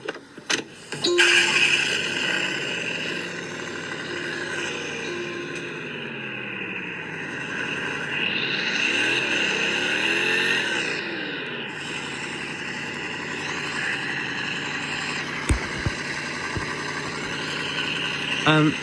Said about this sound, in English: The engine sounds sound really clear on this phone as well.